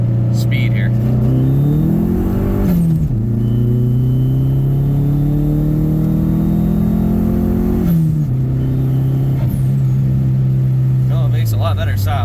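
Dodge SRT-4 pulling hard from 40 in second gear, engine note climbing steadily, dropping at a gear change, then rising again, loud in-cabin rumble throughout.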